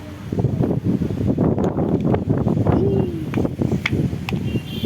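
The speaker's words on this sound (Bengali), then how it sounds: "হাওয়া হচ্ছে ভীষণ হাওয়া" Strong wind buffets outdoors in loud, gusty rushes, roaring and fluttering against the microphone throughout.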